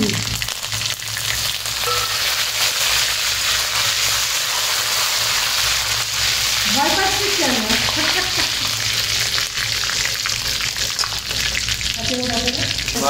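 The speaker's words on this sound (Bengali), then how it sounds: "কারি পাতাটা শাকের সাথে আর একসাথে মেশাই নিয়ে আমি ফোড়ন দেব" Curry leaves and greens tempering in hot oil, a steady loud sizzle and frying hiss throughout, with stirring scrapes and occasional faint voices in the background.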